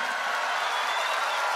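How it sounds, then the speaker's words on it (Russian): An audience at the Slavianski Bazaar contest applauds a contestant from Uzbekistan, a continuous even roar of clapping mixed with faint crowd murmur, loud and sustained throughout. "эти аплодисменты для вас"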